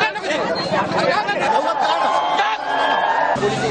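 An unruly crowd of monks and opposition members at a protest site, a loud dense murmur of many voices talking and shouting at once, continuous and close.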